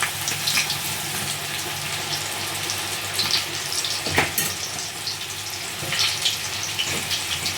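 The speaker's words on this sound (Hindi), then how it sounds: "बचे हुए भिंडी को भी सेम तरीके से फ्राई कर लेंगे।" Okra (bhindi) frying in hot oil in a second batch, a dense, steady sizzle with bubbling crackle and occasional louder spits or stirring knocks, close and continuous.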